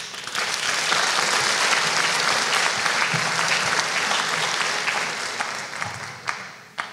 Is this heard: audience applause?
yes